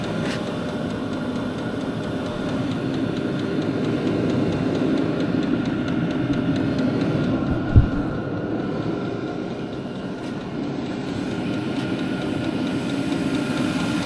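A VEVOR diesel heater runs with a steady, even low hum and whir that stays constant throughout, with one brief thump partway through.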